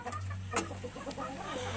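Free-range village chickens cluck softly inside a brooding cage, a few short, close clucks over a low steady hum, with no voices present.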